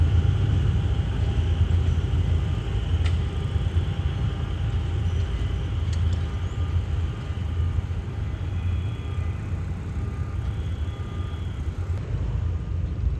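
Hitachi 4511 diesel locomotive with its original grille accelerating while hauling rapid train 167, a heavy, continuous low engine rumble that stays loud and steady from start to end, with faint higher tones above.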